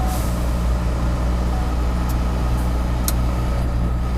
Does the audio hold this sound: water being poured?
no